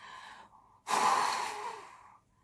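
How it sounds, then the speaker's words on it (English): A hard, breathy blast of air forced through a paper toilet-roll tube, rising suddenly, holding for more than a second, then fading out. "they just have to blow very hard like this"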